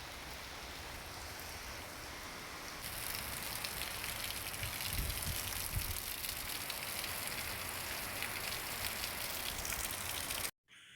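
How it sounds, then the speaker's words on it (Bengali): Steady rain pours down outside a house, a dense, even hiss that runs unbroken and fairly loud with no voices, then cuts off abruptly just before the end. "বাইরে বৃষ্টি হচ্ছে"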